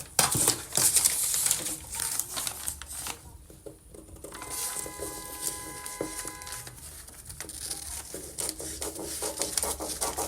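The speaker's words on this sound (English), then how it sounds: "I'm going to cut out the yoke now." Scissors cutting a paper corset pattern yoke, producing irregular close snips and rustling paper crinkles with a few brief taps along the way.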